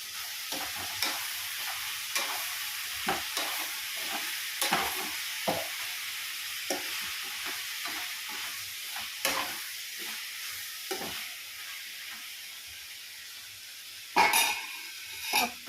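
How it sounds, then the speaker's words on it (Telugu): Mango pieces and brinjal simmering in oil for a curry, a quiet steady sizzle punctuated by repeated spoon scrapes and stirs, with a louder clatter near the end. "ఫైవ్ మినిట్స్ ఇంకా సిమ్లో ఉంచేస్తే మామిడికాయలు కూడా కొంచెం మగ్గినట్టు అవుతాయి ఆయిల్లో"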